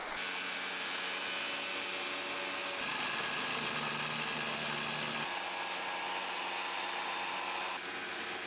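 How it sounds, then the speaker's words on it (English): A large angle grinder cuts into an old wooden front door during restoration, a loud, steady whine and grinding rasp close by, its pitch shifting with load in a few distinct stretches. "with the bigger angle grinder I can actually go like this, and it goes quicker"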